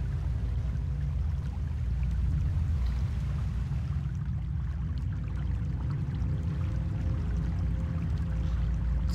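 Running water at a water source in RuneScape, a steady low rushing flow that holds constant and fairly loud throughout, with no voices over it.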